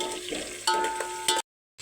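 Onions frying in a pan with masala, mint, coriander and chillies for a Telangana-style chicken curry give a close sizzle with stirring scrapes and a clink. The sound breaks off abruptly near the end.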